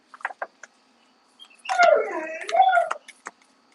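A dog whines and yips close by during the owner's dinner, first as short yelps, then as a long wavering whine in two rising and falling swells, followed by a few brief squeaks.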